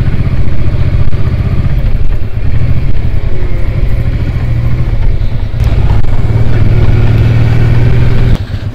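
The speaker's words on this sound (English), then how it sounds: "How could it not be nice riding a motorbike round here?" Motorcycle engine running steadily while riding on roads in Devon, a loud continuous low rumble with slight clatter throughout, rising briefly near the end before a drop.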